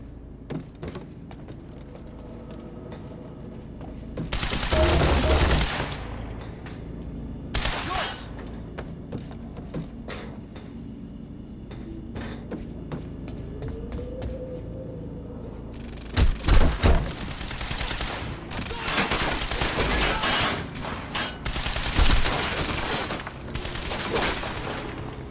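Gunfire in Quantum Break, bursts of loud shots in separated clusters with quieter mechanical sounds and thuds between them.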